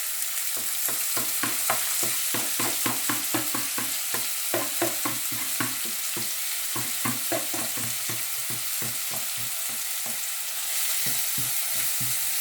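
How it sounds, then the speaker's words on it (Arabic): Onion sizzles and crackles in hot oil in a pan, a close and steady fry with a dense run of rhythmic stirring clicks and scrapes throughout, with no voices. "انا هوني سخن لنا الزيت نتاعنا، نحط عليه البصل."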